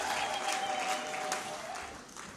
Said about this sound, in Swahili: Makofi na vigelegele kwa ajili ya